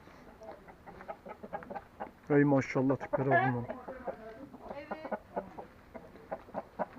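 English fighting roosters clucking and calling nearby, with a few loud squawking bursts, while someone talks over the birds.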